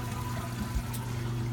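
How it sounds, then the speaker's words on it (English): Reverse osmosis water runs steadily from a hose into a mixing bucket in a basement beside a reef tank sump, a continuous close splashing pour with no talk. "I got the RO water running right now."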